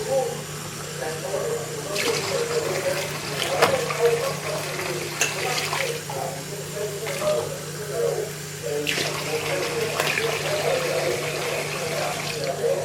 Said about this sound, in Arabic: المية قلت زي ما انتوا شايفين، فمحتاج نزودها. لازم تزودوها